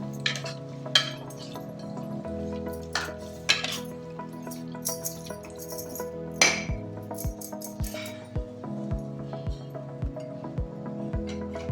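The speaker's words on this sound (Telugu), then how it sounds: "చికెన్ని కాస్త కలుపుదాం ఇట్లా." Chicken being stirred in a pot for Telugu-style chicken dum biryani, with soft scraping and clinking of a spoon against cookware, occasional brighter clinks and steady low cooking hum, no talking.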